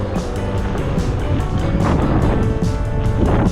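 Headwind noise while riding a Hiboy X300 big-wheel electric scooter uphill on an off-road section, a loud constant buffeting roar close to the microphone.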